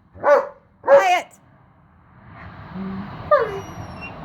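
A dog named Barney barks twice, loud and close, at a running Hoover vacuum cleaner, then the vacuum's steady whirring drone fills the room as a short whine rises over it.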